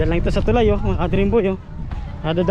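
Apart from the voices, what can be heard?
No everyday noise stands out behind the speech.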